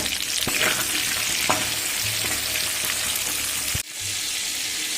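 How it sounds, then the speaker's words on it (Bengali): Winter vegetables frying with salt and turmeric over a medium flame for vegetarian khichuri, a loud continuous sizzle with a few stirring clicks and knocks, briefly cut and then resuming near the end. "লবণ আর হলুদ দিয়ে মিডিয়াম ফ্লেম করে ভাজাটা হতে দেব"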